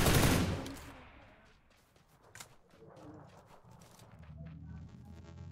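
Gunfire in the PUBG video game: a loud burst of shots at the start, then scattered sharper shots at a moderate level. People talk over the shooting.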